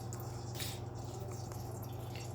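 Cooking oil, about one and a half cups, pours into a pot as a faint, steady liquid trickle with a few soft splashes under a low background hum.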